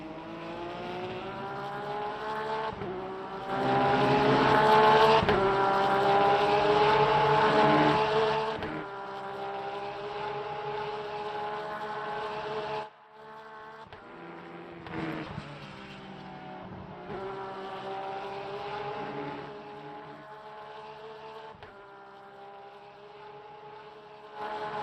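A race car engine roars from the cockpit at Silverstone in a racing game, a sustained harmonic drone rising and falling with gear changes, with a brief cut to near silence midway before the engine builds again.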